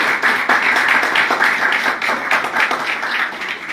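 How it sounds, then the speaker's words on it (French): An audience at a political organising meeting for Cameroon's elections claps together in a dense, steady burst of applause that stays loud and close for a few seconds. "Je demande que vous applaudissez pour vous-même."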